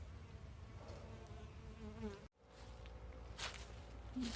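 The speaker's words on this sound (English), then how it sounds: "you've already got a bee interested" A bee buzzes around a wooden swarm trap set outdoors, a thin wavering drone that stays close and steady, then briefly cuts out before returning nearer and a little louder.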